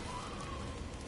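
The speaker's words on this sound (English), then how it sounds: "Over a storm like this?" A rainstorm in God of War Ragnarök in the realm of Alfheim, a steady, dense hiss of falling rain with a low rumbling bed, continuous and fairly loud.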